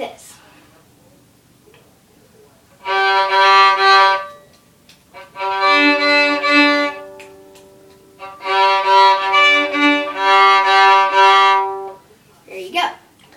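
Bowed violin notes play a simple repeated folk-style tune in three sustained phrases, clear and close, with near silence between them.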